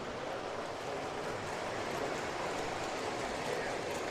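An O gauge model Amtrak train rolls along a modular layout as a steady, even rushing rumble with a faint rail whir, moderately close and unchanging throughout, with no clear voices.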